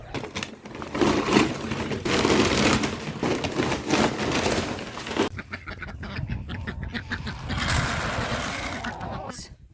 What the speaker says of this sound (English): I guess I should just go feed the chickens first